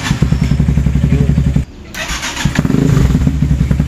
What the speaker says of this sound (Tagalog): Napagana ko na yung electric starter ng motor mo.